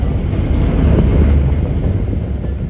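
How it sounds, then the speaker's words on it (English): Loud low rumble of a train rolling past close by at Epcot, a continuous heavy roar with some wind buffeting the microphone. "it's really fun to see the train ride by here, as we will see any second."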